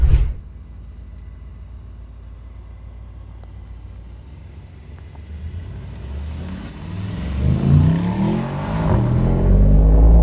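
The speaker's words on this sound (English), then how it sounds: "So let's actually take it for a drive." Mercedes Mythos car engine driving off, starting as a low steady idle rumble and rising into a louder, accelerating engine growl with climbing revs toward the end.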